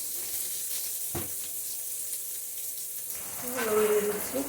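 Boiled sweet potato frying with salt and turmeric in a pan gives a steady, even sizzle, with a brief knock near the start and louder stirring scrapes toward the end.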